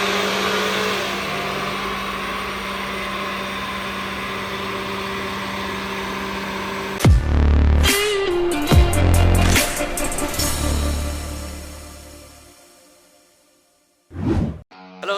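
A car engine on a dynamometer, before a remap, holds a loud, sustained run at high revs. It then cuts to sharp whooshing revs and deep thumps before fading out, followed by a few short bursts.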